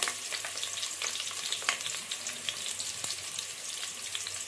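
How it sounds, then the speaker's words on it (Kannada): Mustard seeds, halved onion and dried red chillies fry in hot oil as a tempering for vegetable sambar, giving a continuous soft sizzle with scattered crackles and pops, fairly quiet and close, with no talking. "ಚೆನ್ನಾಗಿದು ಬ್ರೌನ್ ಕಲರ್ ಬರೋವರೆಗೂ ಫ್ರೈ ಮಾಡ್ಕೊಳ್ಳೋಣ ಇದನ್ನ"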